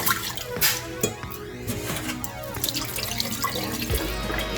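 Tap water runs steadily into a sink as rice is rinsed, with splashing, sloshing and drips close to the microphone and no talking.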